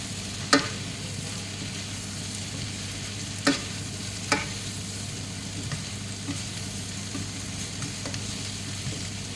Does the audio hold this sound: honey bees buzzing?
no